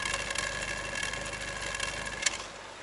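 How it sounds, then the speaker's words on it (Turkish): Exhaust of a Renault Toros car idling, a steady low engine rumble with a faint continuous hum, fairly close and alone, with one brief louder knock near the end. "Bak, egzozun sese bak."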